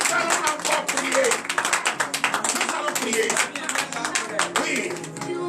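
Church congregation clapping and cheering for the Lord during a French-language morning prayer service, a dense ongoing mix of hand claps and voices, loud and close throughout.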